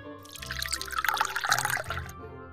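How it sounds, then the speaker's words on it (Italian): Water pours steadily into a pot for about two seconds while broccoli, carrots and potatoes are readied for boiling in a children's toy-kitchen cooking game; the splashing swells and then stops abruptly, with no voices over it. "Versiamo l'acqua."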